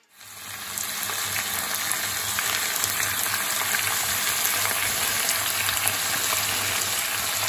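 Lamb chops sear in oil in a pan, producing a loud, dense, unbroken sizzle that swells in within the first second and holds steady throughout, heard close with no talking.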